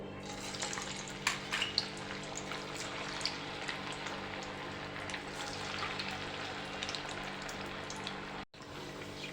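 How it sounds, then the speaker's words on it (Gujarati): Methi vada, fenugreek fritters, deep fry in hot oil with a steady, dense bubbling hiss that stays fairly even throughout and cuts off briefly near the end, with no voices. "આવી રીતે આપણે બીજા વડાને પણ તળી લઈશું"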